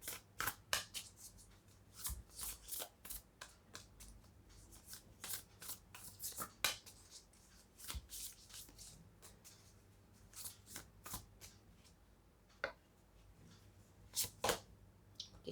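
Tarot cards are shuffled and drawn by hand in quick, crisp flicks and riffles, close and quiet, coming in uneven bursts with short pauses.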